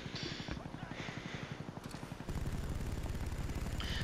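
A chopper gunner helicopter in Black Ops, its rotor thumping in a fast, even pulse while rapid bursts of gunfire rattle over it, steady and close throughout.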